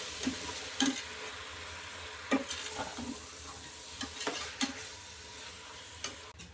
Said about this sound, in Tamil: தக்காளி சேர்த்து நல்லா வதக்கி விட்டுக்கணும்.